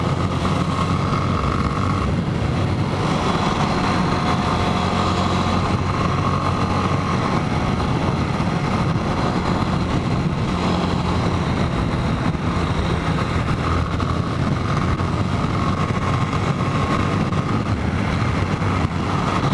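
A motorcycle engine drones steadily during a ride home through city traffic, a constant close hum with road and wind noise and no talking.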